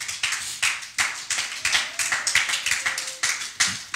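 A church congregation claps together to acclaim the Lord during a sermon, with steady, rhythmic, fairly loud handclaps repeating in an even beat and a faint held tone in the background, and no talk over them.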